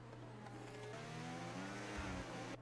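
An Alpine race car engine from a racing video game, a steady, faint high-pitched whine that climbs slightly in pitch as the car passes, with a low constant hum beneath and no speech.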